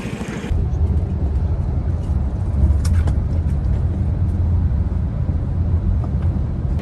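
Steady low engine rumble of a bus driving on the road to Paris, heard from inside, with a continuous droning hum and faint rattles and hiss throughout.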